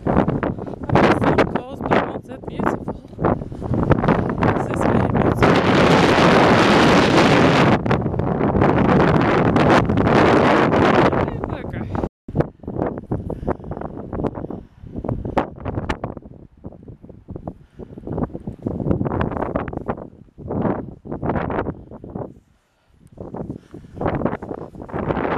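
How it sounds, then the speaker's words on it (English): Strong wind buffets the microphone on the Mull of Galloway coastal trail in Scotland, in loud roaring gusts with brief lulls, and someone speaks occasionally. "Beautiful, the wind."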